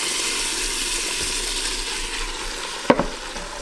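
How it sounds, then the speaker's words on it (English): Frying and stirring sizzle as a meat and vegetable mixture goes back into a roux for homemade Guinness chili, a steady close hiss with a couple of sharp utensil knocks near the end. "Now we're going to add our meat and vegetable mixture back."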